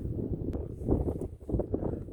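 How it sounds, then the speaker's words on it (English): Outdoor wind along an old stage route buffets the microphone in a low, continuous rumble with uneven gusts swelling and easing. "it was kind of windy out here"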